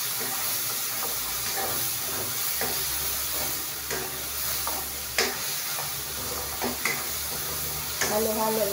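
Monggo stew of mung beans and pork being stirred in a pot, a steady simmering hiss and sizzle broken by irregular utensil scrapes and clinks against the pot, close and moderately loud with no talk.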